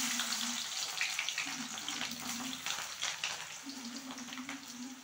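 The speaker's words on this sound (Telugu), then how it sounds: "Friends, cabbage గోలిస్తున్నా." Cabbage being washed under running tap water makes a steady rushing hiss that carries on throughout. A low humming tone comes and goes beneath the flow.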